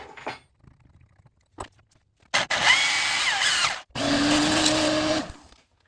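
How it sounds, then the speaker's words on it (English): A power drill whirs in two sustained bursts of a second or so each, close up, drilling a hole in metal on a Precision Matthews PM 1228 lathe, with a few light clicks and taps before it starts. "In order to drill this bottom hole, I need a little extra clearance"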